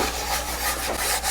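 A cloth rubbing a wax and oil finish onto the outside of a wooden toy toolbox, giving close, steady friction strokes in a continuous rhythm.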